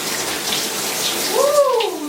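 Shower water running steadily while braids are washed, a close, even hiss of spray on hair, with a brief vocal exclamation rising near the end.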